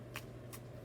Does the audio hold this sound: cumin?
no